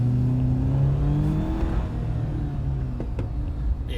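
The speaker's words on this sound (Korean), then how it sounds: "터보 돌아가는 소리라던가 이런 느낌이 되게 일반 차하고는 좀 틀리게 거친 사운드를 많이 구현을 하고 있기 때문에" A Jeep Wrangler Rubicon's 280-horsepower turbocharged engine, heard from the driver's seat, revs with a rough, rising drone and steady rumble that eases slightly, continuous and close, with no voices.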